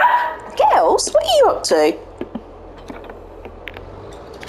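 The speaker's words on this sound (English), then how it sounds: "You can probably hear my dogs in the background." Several playful yips and barks from pet dogs at play, clustered in the first two seconds and fairly close, with someone speaking over them and quieter small sounds afterward.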